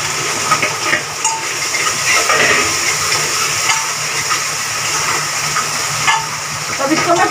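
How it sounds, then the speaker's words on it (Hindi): Tomatoes and masala with Kashmiri red chilli frying in a pan for mutton keema, giving a steady, close sizzle with a broad hiss and occasional stirring scrapes throughout. "तो इसको मैं 5 मिनट तक पकने दूंगी ताकि टमाटर थोड़े नरम हो जाए और मसाला भून जाए"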